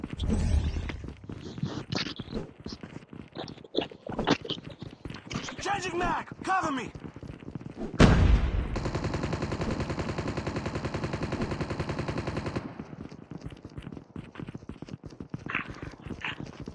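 Gunfire in the Call of Duty Mobile video game, with scattered shots and then one long, sustained burst of rapid automatic fire up close, mixed with other game effects and some talk.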